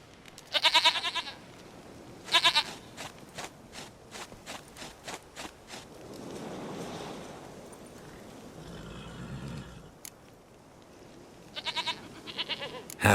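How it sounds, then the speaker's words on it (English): Several goat bleats from The Witcher 3: Wild Hunt, in short separate bursts over a game soundscape with a low rumbling ambience, some calls clearly close and loud, others fainter. "Goat of mine, dearest, sweetest goat."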